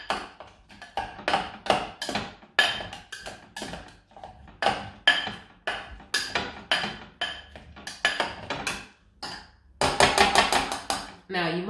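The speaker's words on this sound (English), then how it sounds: "now that I've crushed up the cucumber" Fresh cucumber being crushed with a hand masher in a bowl for a natural face mask: repeated close, wet thumping strokes in an uneven rhythm with brief pauses, ending in a quicker flurry of mashing.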